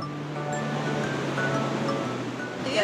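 Ocean waves wash onto a beach in Sri Lanka as a continuous, even roar of surf, with faint steady tones running underneath.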